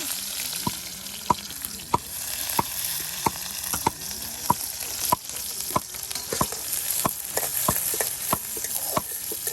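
Onions fry in oil with a steady sizzle, broken by sharp, regular scrapes and taps of a spoon stirring through the pan, outdoors by a riverbank while chicken and brinjal are being cooked.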